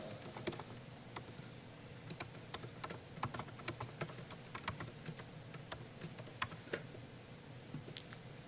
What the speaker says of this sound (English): typing my long password